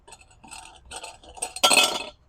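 An air cleaner comes off a carburetor with a few light metallic clinks and scrapes, ending in a brighter, louder clatter; close up and brief, with no talking.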